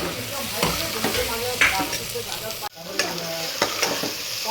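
Soybeans are mixed into frying vegetables in a pan for veg pulao, close sizzling with repeated scraping and clattering strokes of a spoon and a brief drop-off midway.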